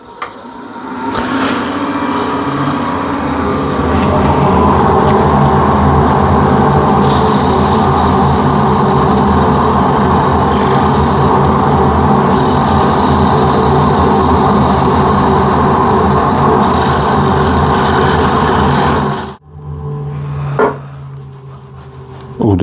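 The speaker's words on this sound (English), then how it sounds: "we can quickly sand this" Wood is sanded after scraping with an old chisel, giving a loud, steady abrasive rasp that runs unbroken for about twenty seconds before stopping abruptly, followed by a few faint knocks.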